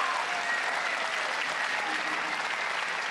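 Steady applause from a large crowd, a dense, even wash of clapping heard from a distance.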